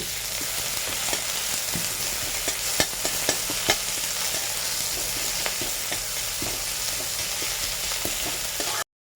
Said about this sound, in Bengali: এর মধ্যে আমরা এবার রসুনটা দিয়ে দেব রসুনটা হালকা হালকা করে লালচে লালচে করে ভেজে নেবো